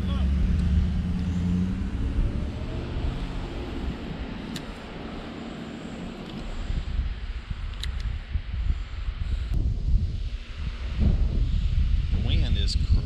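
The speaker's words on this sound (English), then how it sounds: "The wind is crazy, man. It's blowing my line back this way." Strong wind blows outdoors at a riverside fishing spot, buffeting the microphone in rough, rumbling gusts that rise and fall over roughly thirteen seconds, with faint background traffic.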